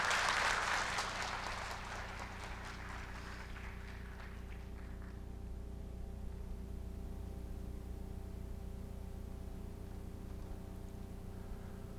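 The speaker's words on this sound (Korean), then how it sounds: "큰 박수 부탁드립니다" Audience applause at a DSRV Web3 conference breaks out loudly at the start, then thins and fades within a few seconds into the low hum of the hall.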